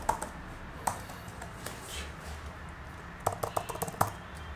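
Keys clatter on an Apple Magic Keyboard attached to an iPad Pro, a few scattered taps followed by a quick burst of close, crisp typing.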